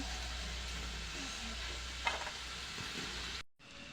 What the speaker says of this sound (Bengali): আমি বাকিগুলো এভাবে সব ভেজে নেবো